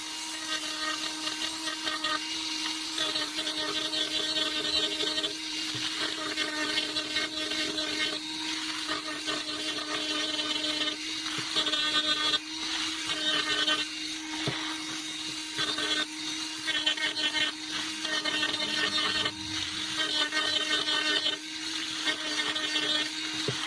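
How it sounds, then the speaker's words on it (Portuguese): A rotary tool fitted with a grinding bit levels metal plates flush with the body of a handmade percussion instrument, a Gangirá. It gives a steady high-pitched whine with a constant tone that runs loud throughout, with brief dips as the bit shifts. "com o auxílio da micro-retífica e a broca de desbaste, nivelar as chapas ao corpo do instrumento"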